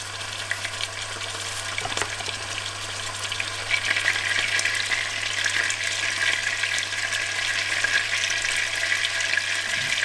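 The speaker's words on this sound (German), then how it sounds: "Und jetzt werden die halt schön angebraten." Beef rolls sizzle steadily in a hot pan, a continuous crackling hiss over a low electrical hum.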